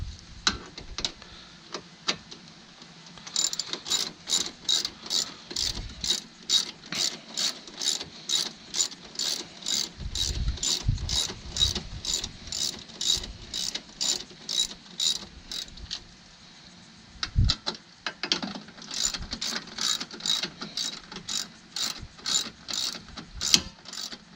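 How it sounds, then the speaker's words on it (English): A socket wrench ratchets steadily during a Kia Sedona cooling fan replacement, producing close, rhythmic clicking strokes with occasional dull knocks and brief pauses, and no speech. "See if I can keep my socket on there."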